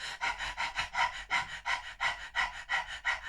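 A person imitates a dog's fast, rhythmic panting with the tongue out, about a dozen quick, evenly spaced breaths, close and clear with no talking.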